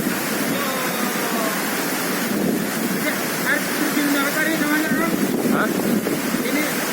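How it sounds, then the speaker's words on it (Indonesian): Curug Cibereum waterfall roars as a constant, dense wash of rushing water that stays loud and even throughout, with faint voices and a brief exclamation over it. "Ini air terjun Ciberem,"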